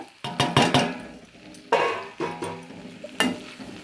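Roasted black sesame seeds are stirred into a sautéed chutney mixture in a pan, the spoon knocking and scraping against the metal in several close, distinct bursts with short pauses between.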